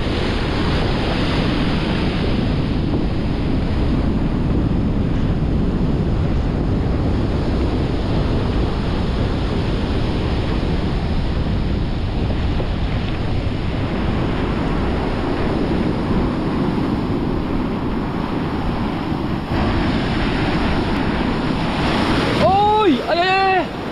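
Sea waves crash against rocks near a river mouth on the coast, a heavy continuous roar of surf with strong wind buffeting the microphone throughout.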